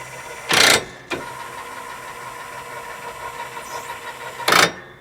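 A Johnny Products electric sleeve hitch on a riding mower runs with a steady motorized hum, broken by two short loud bursts of broadband noise near the start and end.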